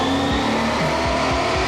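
Coyote 5.0-swapped Mustang racing down the back stretch at Toronto Motorsports Park, its engine revving hard and loud with repeated rising pulls punctuated by quick shifts, close and continuous.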